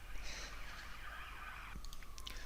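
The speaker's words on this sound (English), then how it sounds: "police cars racing past" Police car sirens wail as the vehicles race past, a steady high warbling tone at moderate distance with traffic rumble underneath, fading and shifting near the end.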